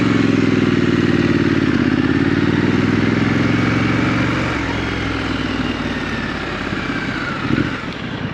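A Triumph Scrambler motorcycle rides on winter roads in the UK, its engine loud and close with a rising and falling drone as it changes speed, then settling into a rougher rumble with wind noise.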